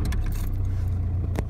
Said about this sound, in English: you put your key in the actual ignition and fire it up